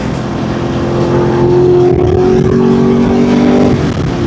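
A Chevrolet Camaro SS 1LE lapping a race track, heard from inside as a loud, sustained V8 roar with rising and falling engine tones through corners and straights, no talking.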